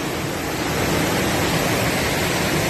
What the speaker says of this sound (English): Serious waterfall.